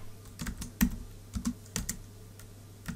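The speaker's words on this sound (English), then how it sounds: "Type in your text" Someone types on a computer keyboard, producing a quiet, uneven run of clicking keystrokes with a few sharper taps, close and alone without talk.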